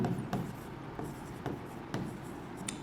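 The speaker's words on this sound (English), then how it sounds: "I write a sentence." Writing on a board during an English grammar lecture, heard as a handful of quiet scratchy pen or chalk strokes spaced out over a low background hum, with no speech.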